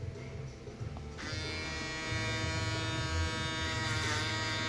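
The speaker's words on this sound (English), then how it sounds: "Trying to use the balding trimmer" An electric balding trimmer buzzes steadily and close, a continuous motor drone that shifts slightly as it touches hair.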